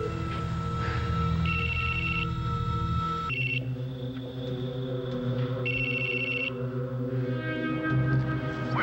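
A telephone rings in a soap opera scene, its repeating electronic trill coming in two bursts over a steady background of music, fairly loud and close.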